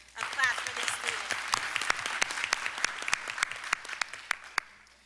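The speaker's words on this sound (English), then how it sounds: "Let's give it up with a round of claps for these students." A school board meeting audience claps for students at an arts and humanities academy, moderately close, with distinct individual hand claps popping over a thinner crowd of applause that gradually tapers off, and voices murmur underneath.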